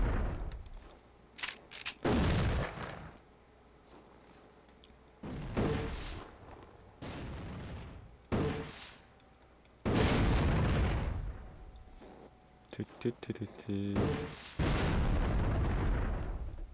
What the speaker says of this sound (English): you gotta be careful of those high explosive grenades. They will murk you.